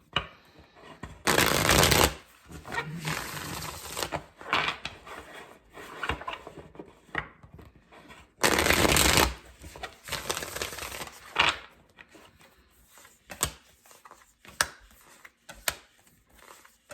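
A deck of tarot cards is shuffled in crisp riffling bursts, two loud shuffles separated by softer handling and tapping of the deck, close and without talk.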